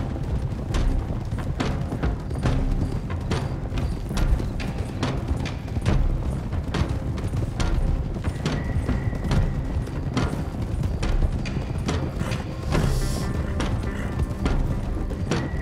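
Horses galloping in Red Dead Redemption 2, a steady stream of hoofbeats and thumps running throughout at a constant loud level, mixed with game sound and occasional faint voices.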